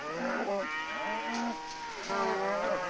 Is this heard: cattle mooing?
yes